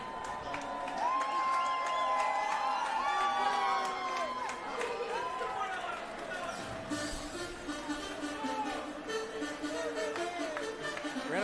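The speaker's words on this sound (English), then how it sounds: "Crowd's about to explode for Briana Nightingale." Crowd noise swells and cheers loudly at a fight-series cage event as a female fighter walks out, with entrance music and voices layered throughout the continuous roar.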